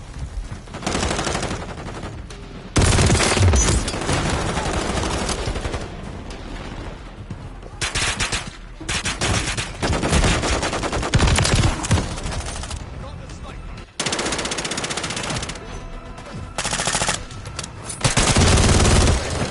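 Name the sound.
gunfire from a video game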